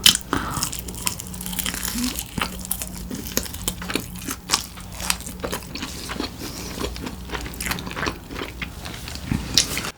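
Crunchy Korean fried chicken jumbo wings in honey and spicy red coatings being bitten and chewed up close, loud crackling crunches repeating steadily with wet chewing between them and no talk.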